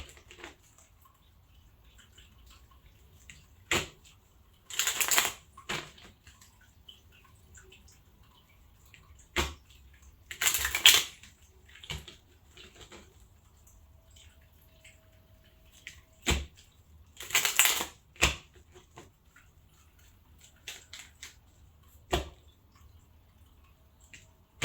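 A deck of cards is shuffled during a spiritual card reading: three brief, close riffling bursts spaced several seconds apart, with scattered soft taps and clicks between them and no talking.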